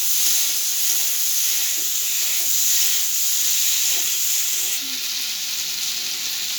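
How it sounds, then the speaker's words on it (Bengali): Ridge gourd and potatoes fry with spice paste in a pan, a loud continuous sizzle and steamy hiss with only faint stirring beneath, holding steady throughout. "এবার মশলার সাথে সবজিটাও কষিয়ে নেব।"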